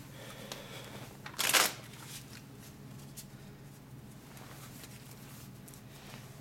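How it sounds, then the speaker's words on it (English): A brief burst of shuffling Pandemic board game cards, a quick riffle lasting under a second, over a quiet room background. "I take the remaining cards, shuffle them up,"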